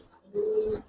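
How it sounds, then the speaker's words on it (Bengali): A Teddy-bred pigeon coos once, a single sustained close call rising out of a quiet room and holding steady for under half a second. "এটা অনেক ভালো জাতের একটা কবুতর, মানে টেডি কবুতর দিয়ে করা"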